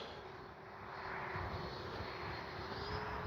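A Freewing 90mm Zeus RC model jet flying overhead, its ducted-fan whine a steady, moderately loud roar that swells slightly and holds, with no voices over it.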